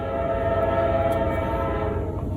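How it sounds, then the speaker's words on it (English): A train passes near a sailboat at a dock, a loud steady low rumble of wheels and cars with a sustained tonal horn blast layered on top, filling the whole stretch without pause. "Here comes the train."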